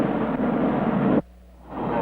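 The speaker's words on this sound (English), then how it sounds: "this is a French fire engine that floats on air." A French hovercraft fire engine roars with a loud, broad, steady engine and fan noise that cuts off abruptly after a second, leaving a low hum before the roar begins to return.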